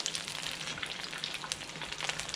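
A steady, crackling sizzle of beer-battered fish frying in hot oil, with dense popping throughout, close but fairly quiet.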